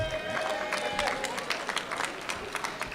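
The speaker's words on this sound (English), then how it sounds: "we can give them a big round of applause" Scattered clapping from an audience, a dense patter of hands that holds steady for a few seconds, with some crowd noise mixed in.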